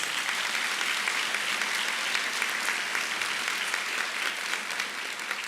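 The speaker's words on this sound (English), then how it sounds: "let's give them a big round of applause, our board members" Sustained applause from a sizeable crowd, a steady dense clatter of clapping hands with no pauses throughout.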